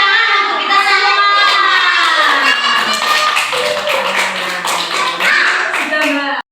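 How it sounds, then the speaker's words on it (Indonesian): A group of children claps together in a classroom, a dense steady patter of hands lasting several seconds with young voices chattering over it. "Tepuk tangan untuk kita semua."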